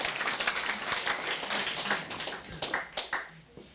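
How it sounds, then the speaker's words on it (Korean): An audience in a lecture hall gives scattered, moderately loud applause, with uneven claps that thin out and grow sparse toward the end. "그럼 박수를 한번 쳐보시죠"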